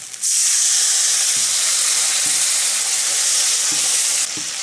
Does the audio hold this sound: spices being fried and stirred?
yes